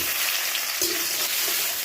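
Close, steady sizzle of black cumin, chopped onion and tomato frying in oil, with a brief stirring scrape partway through.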